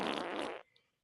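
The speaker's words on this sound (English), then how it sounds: "the fart." A single fart, a loud, raspy, broadband burst lasting about half a second before cutting off to near silence, heard close and alone.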